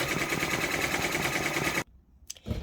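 An embroidery machine stitches out a freestanding lace pumpkin in a rapid, even mechanical rattle that stops abruptly partway through, followed by a couple of brief clicks and a short resumption.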